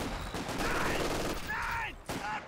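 Bursts of machine gun fire and battle noise from a Company of Heroes 2 match, steady gunfire with a couple of sharp tonal sweeps layered over it and short gaps near the end.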